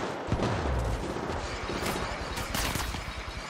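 Dense bursts of gunfire in Apex Legends Mobile, loud and close, with rapid shots running together over a few seconds and no talk.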